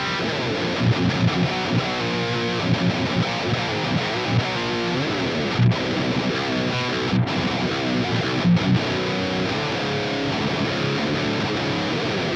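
Heavy distorted electric guitar chugs through a high-gain EVH 5150-style amp simulator (STL Tonality Josh Middleton plugin), dense and loud, played in steady rhythmic bursts with no voices.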